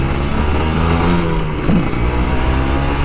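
A Kawasaki Ninja RR 150 two-stroke motorcycle engine revving up close, a loud buzzy drone rising and falling in short bursts with no talking.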